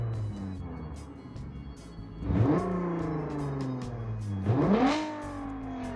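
Straight-piped 3 to 3.5 liter V6 making 450 horsepower, revving in a BeamNG driving game: two sharp, loud rising revs over a steady idle, each climbing quickly and then holding a high, raspy whine.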